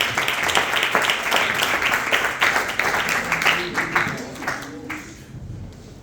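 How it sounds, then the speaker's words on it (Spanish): A church congregation claps together during a Spanish-language service, a thick burst of applause that swells and then thins out toward the end, with some voices mixed under the clapping. "Denle una ofrenda a Dios de palmas."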